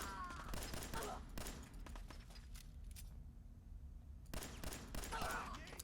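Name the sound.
enemy gunfire in video game Fallout 4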